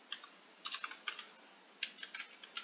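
Fingers typing on a computer keyboard, light clustered clicks in uneven bursts with short pauses, quiet and close with no voices.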